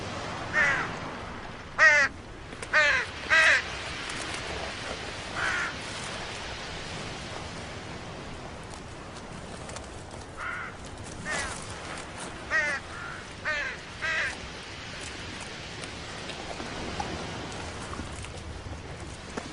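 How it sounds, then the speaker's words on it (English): Crows caw in a forest, loud harsh calls in scattered bursts of two or three, some nearer and some more distant, over a steady soft hiss like light rain. "Heckling crows call unwanted attention."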